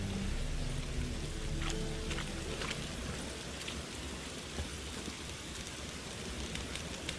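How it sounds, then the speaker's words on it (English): Steady rain pours down in a Witcher 3: Wild Hunt game scene, a dense continuous hiss of drops on surfaces with no talk over it. "Looks like rain."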